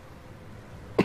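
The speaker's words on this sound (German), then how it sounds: "Nee, ich huste nur." A single short cough sounds at the very end after quiet background noise, close and fairly loud.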